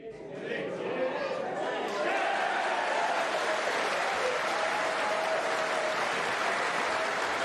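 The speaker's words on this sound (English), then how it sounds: "that considerable applause will tell you that Robertson not only has made that break, but he's won the match" Loud, sustained applause from a snooker crowd at the World Championship fills the hall after a match-winning break, swelling within the first two seconds and holding steady, with some crowd murmur and a voice beneath it.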